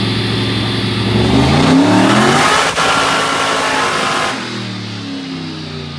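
Porsche 914 with an LS turbo engine revving hard on a dyno, loud rising and falling engine pitch that builds to a sustained pull, then eases back to a lower drone near the end.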